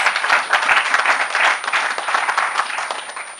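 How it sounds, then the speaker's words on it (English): Audience at a national round table of mediators breaks into sustained applause, dense steady clapping from a crowd filling the whole stretch with no talk over it. "So I think that we owe ourselves a big applause for."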